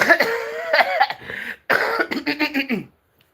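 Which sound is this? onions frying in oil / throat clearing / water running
throat clearing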